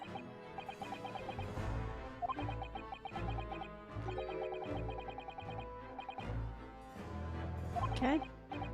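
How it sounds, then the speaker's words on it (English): Chickens cluck in the video game The Great Ace Attorney Chronicles, faint under steady game music, with a few brief sharper calls near the end. "The birds seem to agree."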